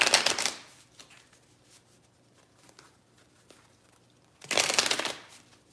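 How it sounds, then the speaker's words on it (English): A deck of tarot cards riffles in two quick bursts, one at the start and one near the end, with faint handling noises and quiet between. "shuffle the deck again."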